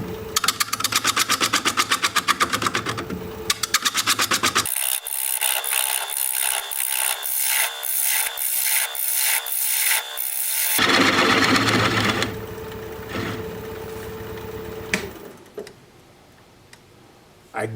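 A wood lathe spins a large Ponderosa pine blank while a tool squares off its tenon, giving rapid rhythmic ticking and knocking over a steady motor hum, loud and close, then a smoother tone as the cutting eases near the end.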